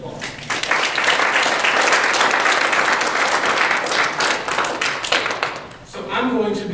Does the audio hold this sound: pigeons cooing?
no